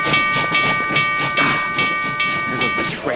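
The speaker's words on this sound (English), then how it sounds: "There goes my train." A train pulls away from a station platform, its wheels clacking in a steady rhythm over the rails while a sustained whistle tone rings above the rumble, loud and close throughout.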